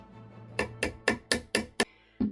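A hammer strikes something in six sharp, evenly spaced blows, then a seventh after a short pause, loud and close with no talking.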